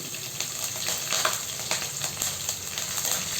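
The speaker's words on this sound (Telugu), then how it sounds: "పచ్చిమిర్చి వేసి వేయించాను తర్వాత ఉల్లిపాయలు కూడా వేసి వేయించుకుంటున్నాను" Green chilies and onions fry in hot oil in a steady close sizzle, with soft bubbling crackles and faint stirring knocks running through it and nobody speaking.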